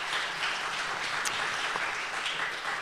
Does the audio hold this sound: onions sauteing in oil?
no